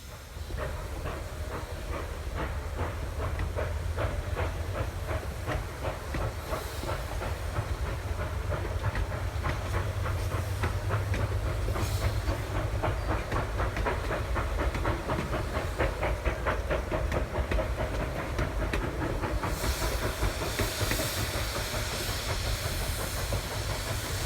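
A K-28 steam locomotive on the Rio Grande, close and loud, with constant hissing steam over rapid rhythmic chuffing and rail clatter that builds steadily, plus a few sharper bursts of steam.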